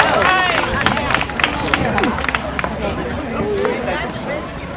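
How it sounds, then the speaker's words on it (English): An audience at an awards ceremony applauds, giving a round of applause for a humanitarian award honoree. Scattered, moderately loud claps mix with crowd chatter and voices, then thin out toward the end. "round of applause for Sheriff James Gannon."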